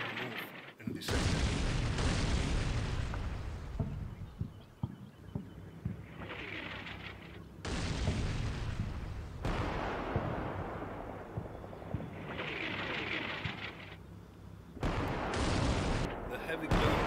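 Heavy guns fire in the Combat Mission Shock Force 2 war game, with loud, rumbling artillery booms and sustained blasts that come in several long waves and then break off abruptly.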